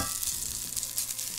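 Cold pot-cooked rice with its crispy scorched crust sizzles and crackles steadily as it fries in hot oil with tomato sauce in a pot, with a soft scraping stir now and then.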